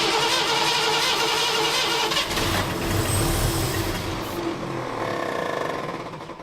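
A 1952 Ford engine being started with a key after years of sitting, a rough loud cranking and running roar with sputtering bursts that gradually eases off.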